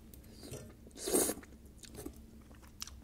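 A single loud bite with a crunch, followed by quieter chewing sounds, heard close up while eating creamy truffle malfadine pasta with Parmesan and heavy cream.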